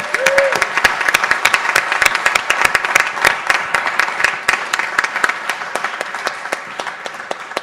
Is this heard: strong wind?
no